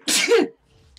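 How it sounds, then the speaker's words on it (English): A single sudden, forceful human sneeze, close and loud, breaking off abruptly into quiet. "That was like a really like uncontrollable sneeze."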